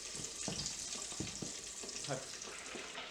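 Vegan gluten-free burger patties cooking in a pan, a soft steady sizzle with a few light clicks and scrapes, quiet and close, with no talking.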